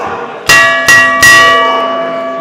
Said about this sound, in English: There's the bell, Commish.